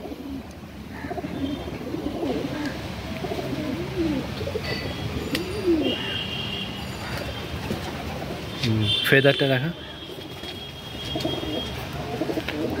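A Madrasi old generation female pigeon coos in soft repeated low phrases at close range, with brief speech and some background noise.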